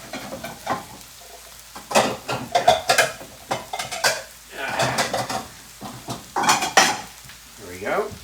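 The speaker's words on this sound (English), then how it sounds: "So that means I need to dig out a couple of bowls." Ceramic bowls clatter and knock as they are pulled out and set down in a home kitchen, with scattered sharp clinks of dishes and cutlery in bursts over a few seconds, close and moderately loud.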